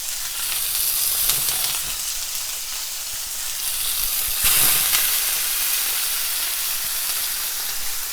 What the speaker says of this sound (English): keep the pan nice and hot so it sears the outside of the meat really, really well